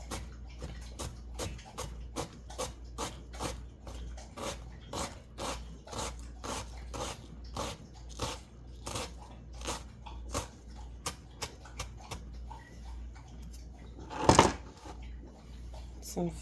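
Knife shredding cabbage finely on a cutting board, a steady series of short, crisp rasping cuts at a quick even rhythm, close and fairly quiet, with one louder thud near the end.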